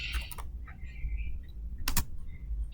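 Computer keyboard typing, a few quick close keystrokes in short bursts over a low steady background hum.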